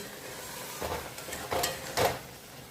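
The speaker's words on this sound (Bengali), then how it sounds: "এবার মশলাটাকে আমি ভালো করে কষিয়ে নেব।" Spiced masala with capsicum, ginger, cumin, coriander and a little chilli powder stirred in a pan for paneer, giving three short scraping bursts of stirring over a faint, steady sizzle, close by with no talk.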